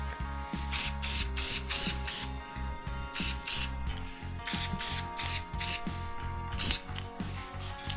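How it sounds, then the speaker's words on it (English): Repeated short hissing bursts of a spray paint can during work on a John Deere 111 lawn tractor, about a dozen in quick irregular succession, with faint mechanical clicks and a low hum between them. "spray right back over it quick"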